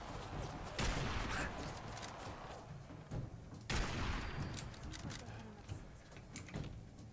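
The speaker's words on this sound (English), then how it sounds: "Hopefully he can still shoot at us from here, and we can just sit here where his bullets occasionally nick us." Enemy gunfire in the Fallout video game, with two sharp loud bursts separated by a few seconds over a dense, noisy background of game sounds and rumble.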